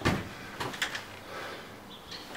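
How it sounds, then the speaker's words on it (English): A front door opens quietly, with a few soft clunks and knocks followed by faint rustling, nearby and without speech. "door opens"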